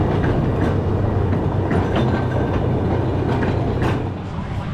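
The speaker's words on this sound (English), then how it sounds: "There goes the Flamingo Express, as I call it. The land train." A small amusement park land train at Flamingo Land rumbles past close by with rhythmic clacking and mechanical clatter, steady and loud, easing slightly at the end.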